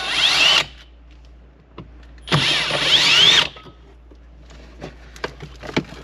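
A power drill whirs in two bursts, one short and one about a second long, backing screws out of a 2012-2016 Honda CR-V dashboard. Quiet clicks and handling noises fill the gaps between bursts.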